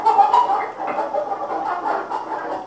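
Caged chickens squawk and cluck in a loud, agitated burst of overlapping calls, continuous and close by.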